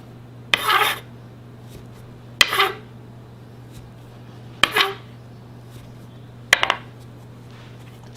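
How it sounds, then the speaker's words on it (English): Buttermilk biscuits being cut out of pressed dough with a biscuit cutter: four separate short bursts of scraping metal-on-board contact spaced a couple of seconds apart, close by over a steady low hum, with no talking. "You're going to press it down about a 1/2 inch and use your biscuit cutter. Now we're just going to cut the biscuits out."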